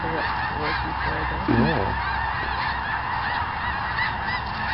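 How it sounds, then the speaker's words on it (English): A mixed flock of snow geese and Canada geese honks steadily over a lake, with dense overlapping calls throughout and one louder honk standing out near the middle, as a voice briefly speaks. "They're snow geese and Canadian geese."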